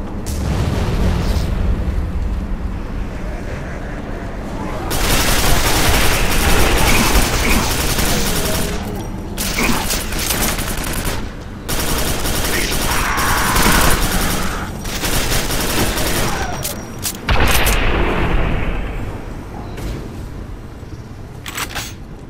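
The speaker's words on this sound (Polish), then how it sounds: "Orbitalna artyleria zawiadomiona. Bombardowanie zacznie się za 3," Orbital artillery bombardment in the Quake 4 shooter game: a loud, continuous barrage of heavy explosions and booming impacts rolling on in dense waves with brief gaps between them.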